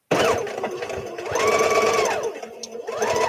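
A sewing machine runs a 5/8 inch seam in quick, loud, close bursts of rapid stitching that rise and fall in speed over a few seconds, alone.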